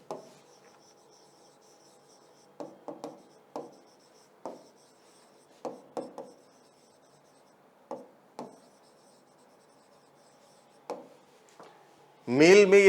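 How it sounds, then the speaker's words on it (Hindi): Pen or marker strokes on a board during a biology lesson, heard as sparse, faint scratchy taps in short bursts over a quiet room, ending in a sudden louder burst of sound. "यहां मैं लिख दे रहा हूं"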